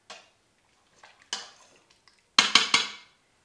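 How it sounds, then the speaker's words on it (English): A utensil stirs pasta inside an Instant Pot, giving a few soft scrapes and then a cluster of three sharp clinks of metal against the pot near the end, all close and with no talk. "Once you've added your pasta, just give it a gentle stir"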